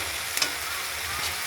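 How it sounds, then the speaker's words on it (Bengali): Spice masala fries in hot oil with a steady, close sizzle, broken by a couple of brief stirring scrapes. "এই মশলাটা একটু ভালো করে ভেজে নিচ্ছি"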